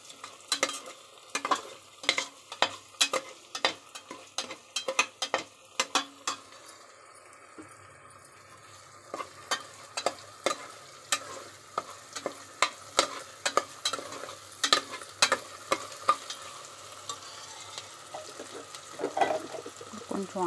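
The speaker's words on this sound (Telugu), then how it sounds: "వేసుకొని ఇది కూడా బాగా ఫ్రై చేసుకోవాలండి" Rock salt frying with turmeric for mutton paya curry, with spoon or spatula strokes clattering in a steady rhythm over a quiet sizzle, close and fairly soft throughout.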